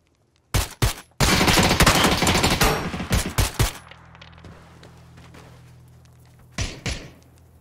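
Video game gunfire from PUBG: a couple of sharp shots, then a dense rapid burst of automatic fire, more scattered shots and a pair of late cracks over a low hum.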